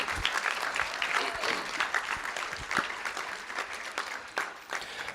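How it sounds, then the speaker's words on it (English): Audience applause for state band qualifiers from Boerne and Champion High School at a school board meeting, steady dense clapping sustained throughout at moderate distance. "Let's give them a round of applause."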